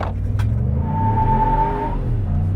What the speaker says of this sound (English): Rear-wheel drive launch.